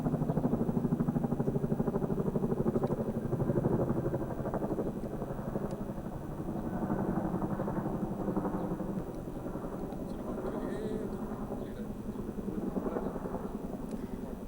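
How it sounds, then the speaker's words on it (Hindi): An Apache attack helicopter flies over Ladakh, its rotor producing a loud, continuous rhythmic thumping that holds steady throughout with no voices. "लद्दाख के आसमान में इस वक्त अपाचे अटैक हेलीकॉप्टर भी लगातार फ्लाइंग कर रहे हैं"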